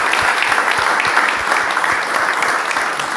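A church congregation claps steadily and loudly in sustained, dense applause that fills the whole moment.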